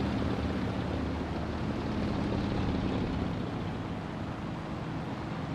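Aircraft engine in War Thunder drones at a steady low level throughout, a faint, distant-sounding hum with no voices over it.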